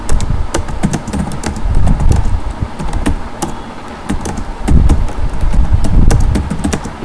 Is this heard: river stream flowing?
no